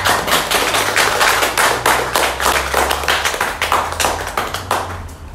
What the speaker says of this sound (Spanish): denle un fuerte aplauso a nuestra Santa Muerte